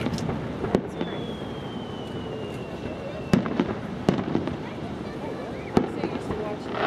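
Fireworks at a fireworks festival go off as scattered sharp bangs over a steady crowd murmur, with one rising whistle early on and a few louder cracks later.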